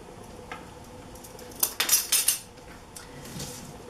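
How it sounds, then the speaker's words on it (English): Fork clinking against a bowl while stirring milk and oil for a pie crust, a short cluster of bright metallic taps and scrapes near the middle, otherwise quiet. "And I stir that with a fork."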